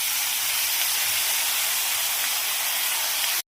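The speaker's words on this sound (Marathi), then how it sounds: "कढई गरम करत ठेवली आणि त्याच्यात थोडंसं तेल टाकले आणि जे दुधी सगळं मिक्स करून घेतलेलं आहे ना, ते मी ह्याच्यामध्ये टाकून घेते" A mix of bottle gourd and moong dal tipped into hot oil in a kadhai, a loud steady sizzling hiss that runs for about three seconds and then cuts off.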